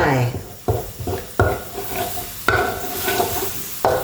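Coconut milk being poured and stirred into curry paste in a pan for a Thai pork chili-paste stir-fry, with loud scraping strokes and soft sizzling recurring every second or so, close up.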